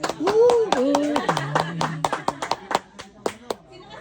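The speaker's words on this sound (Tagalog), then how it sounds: "Palakpak." A small group of people claps in a quick burst of close, sharp hand claps that thin out into scattered single claps, while someone speaks and laughs over the first part.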